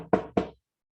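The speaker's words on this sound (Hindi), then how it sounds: "कोई किसी ने नॉक नॉक किया" Two sharp knocks on a wooden door, close and loud, spaced about a quarter second apart, followed by silence.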